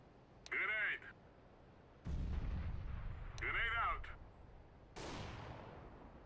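In Counter-Strike: Global Offensive, sharp gunshots crack, then a grenade explosion booms with a low rumble, followed by more gunfire and a second blast, with radio-style voice calls mixed in.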